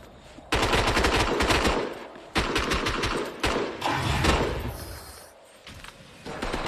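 Loud, sustained automatic gunfire bursts in a chaotic video game tournament match, with sharp breaks between sustained volleys and no talk over it.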